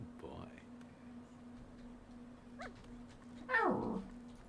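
A dog in The Thaumaturge gives a few soft whimpers and a short yelp, fairly faint over a steady low hum and quiet background.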